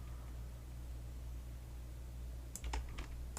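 A computer mouse clicks a few times in quick succession while the Ctrl key is held on a keyboard, working in Maya 3D software; the sharp, close taps come near the end over a steady low hum.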